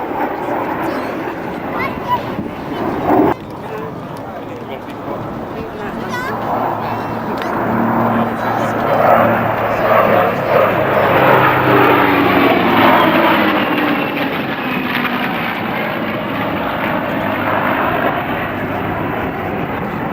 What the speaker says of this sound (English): You're looking at the air superiority fighter from 1951-52, and the air superiority fighter taking us into the new millennium.